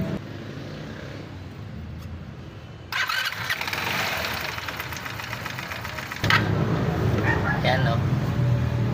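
A Rusi 125 motorcycle engine cranks and catches, then runs at a steady idle close by, with a second louder surge in revs near the end; a person speaks over it.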